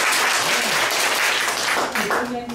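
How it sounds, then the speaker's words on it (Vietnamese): Dense, loud applause fills a Vietnamese church graduation ceremony for a pastoral training course, with a voice faintly heard over the clapping near the end. "Vỗ tay, cảm ơn Chúa."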